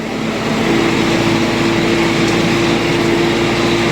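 An MTZ-892 tractor engine running at a steady idle, a loud constant drone with an even hum and no change in pitch, heard close and alone.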